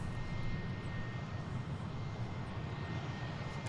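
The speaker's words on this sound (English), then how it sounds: "that MD-11 there in the center of your shot, that's dates back 30 years" A distant MD-11 jet airliner at Dallas Fort Worth airport, a continuous low engine rumble heard from afar with steady broadband roar and no talk over it.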